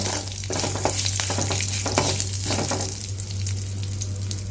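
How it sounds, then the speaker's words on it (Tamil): Curry leaves and tempering spices sauté in hot oil in a pan for mint chutney, a steady loud sizzle broken by rhythmic stirring scrapes, close and without talk. "இந்த தாளிதழ் நல்லா வதங்கட்டும் பாருங்கள் இந்த மாதிரி நல்லா வதக்கிக்கோங்க"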